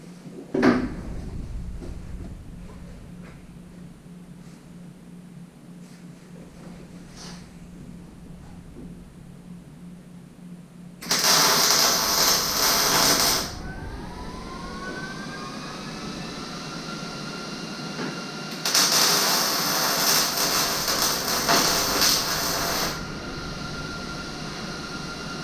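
Stitch welding on a BMW drift car chassis comes as two separate loud bursts of crackling, hissing arc noise, each lasting a few seconds, with quieter shop sounds and pauses between them.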